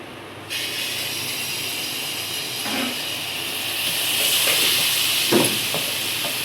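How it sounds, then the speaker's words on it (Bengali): Mango malpua, sweet pancakes made from semolina, flour, mango and sugar, sizzling in hot oil, giving a steady loud hiss that swells midway, with a few soft knocks as the batter cooks. "আমের মালপোয়া ভাজা হচ্ছে।"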